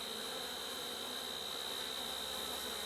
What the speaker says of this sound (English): And the bees are getting nasty already